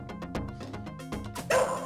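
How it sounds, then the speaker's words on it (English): A dog barks in the Shinobi video game, with a few short yips over a busy, continuous game soundtrack that carries on loudly throughout. "He barked."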